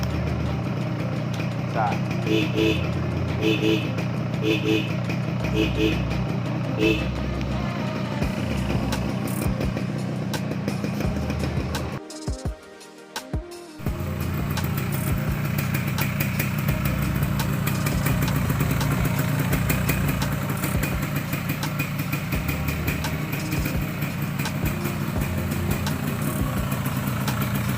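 A 2009 Yamaha RX King two-stroke motorcycle with a red muffler idles close by in a steady, throbbing burble, briefly cutting out midway before settling back into its idle while someone speaks over it.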